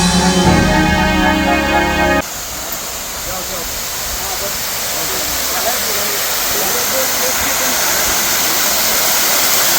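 Water rushes in a stream on the Panhala–Pawankhind trek, a loud, steady broadband roar that takes over after a brief burst of music and continues to the end.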